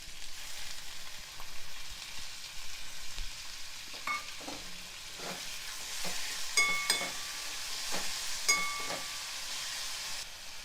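Two medium, red-ripe tomatoes, cut small, sizzle in a pan while being stirred for tomato charu: a steady close frying hiss with periodic scraping stirs and a few light metallic clinks, no voices.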